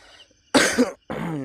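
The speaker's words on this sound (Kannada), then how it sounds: "ನಿನ್ನೆ ಫಿಲಮ್ಗೆ ಹೋಗ್ಬಿಟ್ಟು ಕಿರ್ಚಿ ಗಂಟ್ಲೆಲ್ಲ ಕೆಮ್ಮು ಬಂದ್ಬಿಟ್ಟೈತೆ." Two harsh coughs close to the mic, a short pair and then a longer rasping burst, from a throat left sore after shouting at a film the day before.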